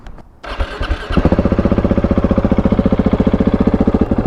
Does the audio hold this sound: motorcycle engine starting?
yes